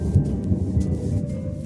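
A thunder boom during a storm, captured by a weather station, rolls as a loud, deep rumble that holds steady across the brief span with a faint hiss above it.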